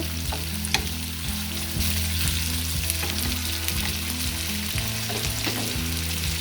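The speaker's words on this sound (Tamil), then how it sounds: "ஒரு தக்காளி நல்லா பொடிசாக கட் பண்ணி சேர்த்துக்கோங்க." Finely chopped tomato fries in a pan for tomato mint chutney, giving a steady moderate sizzle with repeated scraping stirs throughout.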